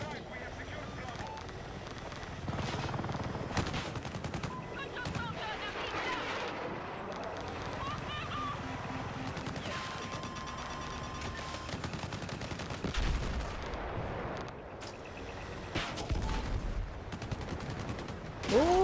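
Enemy gunfire aimed at a helicopter in a combat video game, scattered bursts and rattling volleys running through a long stretch of rotor and wind noise, fairly quiet overall, with voices talking over it.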